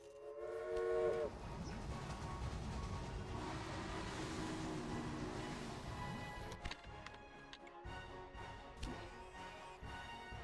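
Trains running in the railway video game Railway Empire: a long horn-like whistle at the start, then continuous rolling rail rumble with clicks and faint whistles, steady and fairly quiet with no talk.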